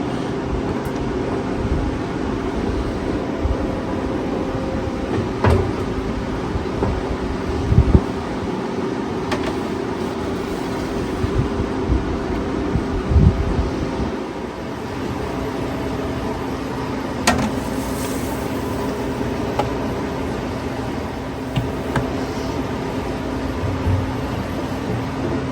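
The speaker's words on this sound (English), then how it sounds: "Now that we got them all loaded in the freeze dryer, just press continue and it goes into freeze mode" A steady mechanical hum and whir from a freeze dryer running continuously in freeze mode, with occasional faint clicks and knocks; no speech.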